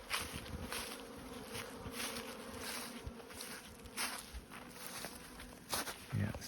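Honeybees buzzing outdoors in a snowy setting around a hive entrance, a faint wavering drone with soft rustling and a few louder thumps near the end, quiet and close with no talk.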